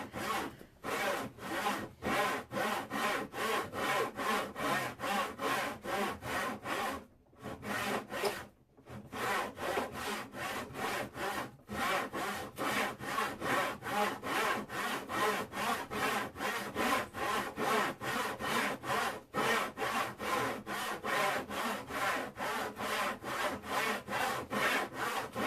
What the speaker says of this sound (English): My technique using a handsaw isn't quite as smooth as it will be in the future.